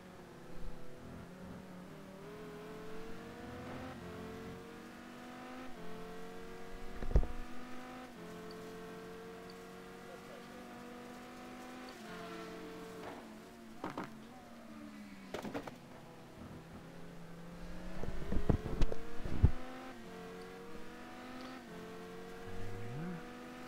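Lamborghini and other GT1 race cars in a racing video game drone and whine through gear changes, pitch climbing and dropping as engines rev out of corners, with louder passes and occasional sharp spikes, heard from mid-distance.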